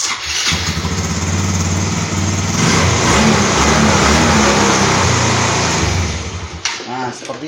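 A Yamaha Xeon scooter engine starts and runs, a loud steady idle close by that holds for several seconds before shutting off.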